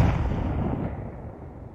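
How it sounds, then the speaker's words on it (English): A grenade blast in a competitive shooter video game, a loud boomy burst that rumbles and slowly decays over a couple of seconds, with no talk over it. "Grenade out."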